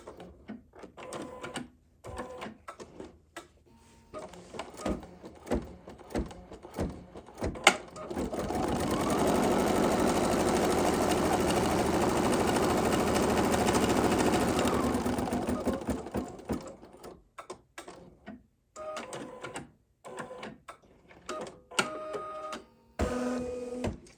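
An embroidery machine stitches a sampler quilt block, its steady rapid needle hum running loud and continuous for several seconds, with quieter handling noises and pauses before and after.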